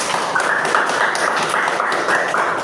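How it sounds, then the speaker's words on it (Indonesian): Students in an Islamic studies classroom lesson clap their hands together on cue, a dense, steady patter of many overlapping claps lasting a few seconds with no talking. "Tepuk tangan."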